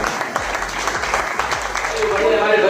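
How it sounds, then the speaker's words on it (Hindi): A crowd at a political rally in Aligarh applauds steadily and loudly, a dense wash of clapping that swells slightly toward the end. "नारे लगा रहे हैं तो जोरदार तालियां चाहता हूं आपको।"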